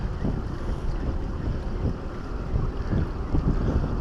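Steady wind buffets the microphone on a harbour pier at Durban's North Pier, a continuous low rumbling roar with gusts, mixed with faint water and boat noise and no voices.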